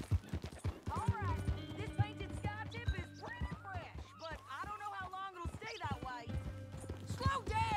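Horse hooves clip-clopping in a steady rhythm during a ride in the video game Red Dead Redemption 2, heard beneath ongoing character dialogue.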